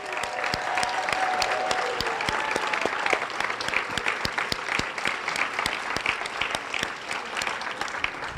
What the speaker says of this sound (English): there's a really, really big applause that goes out to our students